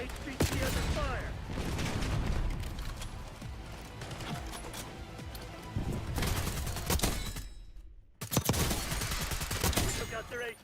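Heavy gunfire in a video game, dense overlapping bursts of shots running throughout with a brief drop to near silence before firing resumes loudly, under scattered game chatter.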